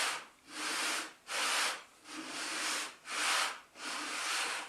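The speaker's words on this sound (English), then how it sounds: "I can put a sanding block in the vise and move it along like so." A wooden board's edge rubs back and forth along a sanding block clamped in a vise in five steady, even strokes, each a raspy hiss with short pauses between.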